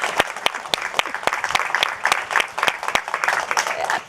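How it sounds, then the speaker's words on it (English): Audience applause after a talk at a LinkedIn speaker series: sharp, distinct hand claps in a lively, uneven rhythm, fairly close and clear, lasting around four seconds with little talk. "we got lots of claps"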